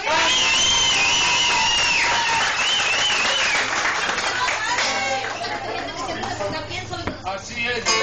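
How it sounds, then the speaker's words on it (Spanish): Crowd applause and cheering for the Mariscos El Volcán seafood restaurant at a lively gathering, sustained clapping mixed with loud whistles, chatter and festive noise throughout. "Un aplauso, Mariscos El Volcán."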